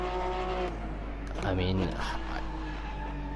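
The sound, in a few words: race car engine and tire squeal in Assetto Corsa video game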